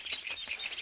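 Birds chirping in a quick repeating pattern, bright high calls pulsing several times within a moment, with a soft fluttering texture like wings flapping close by.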